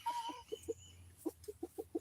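Chickens clucking near a backyard coop, a series of short, fairly quiet clucks in an uneven rhythm, with a brief higher call at the start and no talk.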